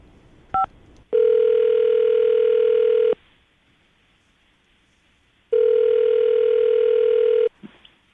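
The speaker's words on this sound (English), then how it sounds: "we're going to call her right now, see if we can get her on the phone" After a short beep, a phone line rings out twice, each long steady tone lasting about two seconds with silence between.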